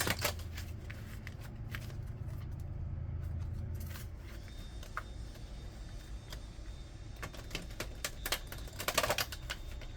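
Tarot cards are shuffled close up in a quiet room, a soft steady background giving way to repeated crisp riffles and flicks of the cards in irregular bursts.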